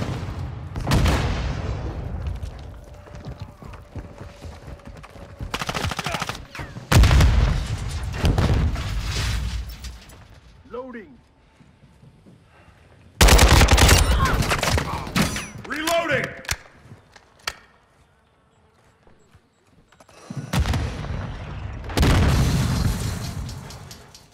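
Grenade blasts and bursts of gunfire from a military shooter video game come in loud, separated clusters with quiet gaps between them, mixed with short game voice callouts.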